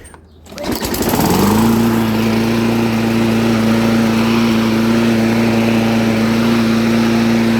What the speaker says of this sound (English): that's a strong running engine, 195 cc